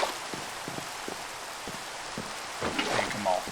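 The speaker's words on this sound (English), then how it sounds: "Although it is raining" Rain falls steadily in Minecraft's Sky Factory 4 modpack, a soft continuous hiss with scattered drop-like ticks and a few brief tonal blips near the end, heard alone at low level.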